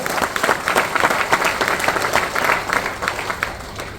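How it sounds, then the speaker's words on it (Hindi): A hall audience gives sustained, dense applause for the women present at a DXN business gathering, many hands clapping steadily and fairly close throughout. "एक जोरदार तालियां हमारी सभी महिलाओं के लिए, इस नारी शक्ति के लिए और जोरदार तालियां"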